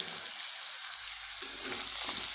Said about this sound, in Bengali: এবার নুন হলুদ গুঁড়ো গুলো দিয়ে আলুগুলোকে এভাবে নেড়ে আমি একটু ভেজে নেব